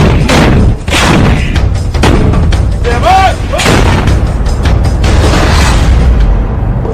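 An M777 howitzer artillery gun fires in a loud, dense barrage of deep booms and rumbling blasts that run almost without a break for seven seconds.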